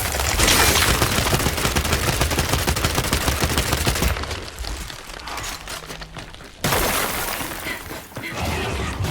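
Gunfire in the video game Gears 5, dense rapid bursts of shots and shattering impacts, loud and continuous, briefly dropping to quieter rumbling before the firing resumes.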